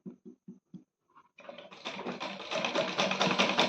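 A sewing machine stitches a curved seam on a lined garment, starting with four short separate bursts, then a pause, then running steadily and loudly in a dense continuous whir that builds toward the end.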